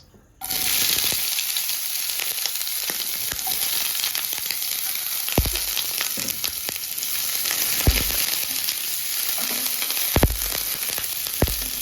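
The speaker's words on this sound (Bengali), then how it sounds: "এবার আমি একটু পেঁয়াজ দিয়ে দেবো।" Onion hits hot oil for a Maggi noodle dish, bursting into a sudden loud sizzle that holds steady and close, broken by a few low thumps and stirring knocks, with no voices.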